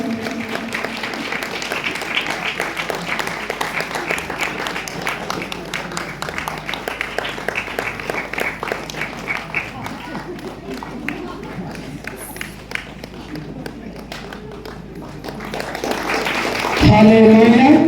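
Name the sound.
loud audience applause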